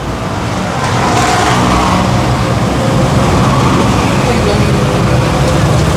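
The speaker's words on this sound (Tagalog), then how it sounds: "Yung mga motor nandito sa harap ko." Motorcycles on a city service road run as a continuous engine drone, close and fairly loud, with the sound swelling slightly after the first second and holding steady.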